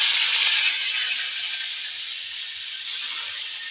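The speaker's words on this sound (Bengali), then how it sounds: "তেলের মধ্যে একটু হলুদ আর লবণ দিয়েছি, হালকা একটু এই চিংড়িটা ভিজে নেব।" Shrimp frying in oil seasoned with turmeric and salt, giving a steady close hiss and sizzle that holds for a few seconds and eases slightly toward the end, with no voices.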